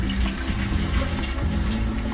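Boiled water poured from a kettle into a beer keg, a steady, close, gurgling splash of liquid running continuously with a low sloshing undertone and no speech.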